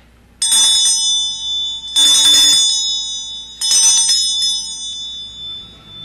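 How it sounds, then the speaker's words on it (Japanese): A bright metal bell rings three times on a radio show, each strike leaving a sustained shimmering tone that decays before the next, loud and close with no voices. "鐘の方鳴らしてまいりたいと思います。"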